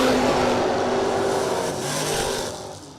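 Drag racing cars, including a fifth-generation and a second-generation Camaro, roar down the strip at a no-delay drag racing event, a loud sustained engine blast that slowly fades as they pull away.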